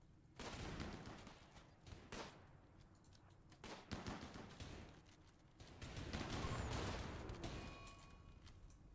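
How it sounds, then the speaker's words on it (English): Enemy gunfire in a video game crackles in scattered bursts of sharp shots, fairly faint and distant, with a longer sustained volley toward the end. "They are starting to shoot at us though."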